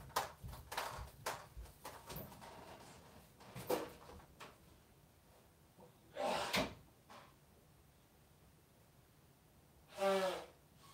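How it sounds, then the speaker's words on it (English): A door is closed indoors at home, giving a few soft knocks and clicks followed by sharper thuds and a final solid bang, with quiet stretches between. "Let me just close the door again."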